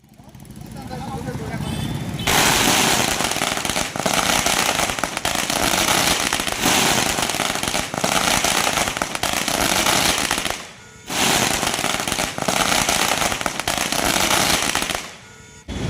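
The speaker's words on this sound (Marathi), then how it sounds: "फटाके फोडून जल्लोष करून आनंद साजरा केला जात आहे" Rapid crackling bursts of firecrackers go off continuously and loudly for most of the stretch, with a brief pause near the end, amid crowd noise at a street celebration in Malegaon.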